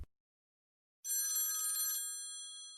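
A telephone bell rings in a single bright, sustained burst that fades out after about a second, heard alone in an otherwise silent room.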